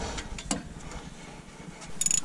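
Ratchet working the 15 mm bolts that hold the front hub flange to the knuckle on a Chevy truck, a few quick clicking strokes up close with a burst of rapid clicks at the end.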